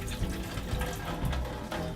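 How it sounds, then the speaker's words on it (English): Water pours and splashes steadily from a tin of jackfruit drained with the lid held on, a continuous gurgling trickle close by. "I'm just going to drain the water out of the jackfruit there,"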